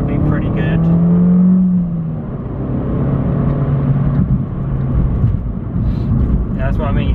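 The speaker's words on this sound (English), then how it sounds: "literally just floor it and the car will pick up speed and go" An Abarth 595 Turismo pulls hard under full throttle, its engine note building steadily and loudly from inside the cabin, with a voice talking over it throughout.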